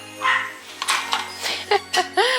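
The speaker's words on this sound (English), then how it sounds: "it's my little dog upstairs" A small dog barks a handful of times from upstairs in a house, short yappy barks with a whimper, moderately loud and slightly distant.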